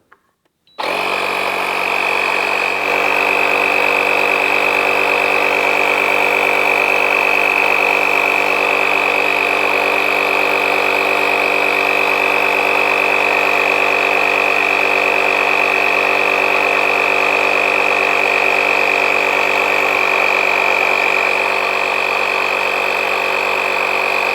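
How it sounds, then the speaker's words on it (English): A ShockFlo cordless portable air compressor starts after a short click and runs continuously, a loud, steady motor whine with a buzzing drone that stays constant for over twenty seconds without speech. "then we'll hit the play button to start the compressor"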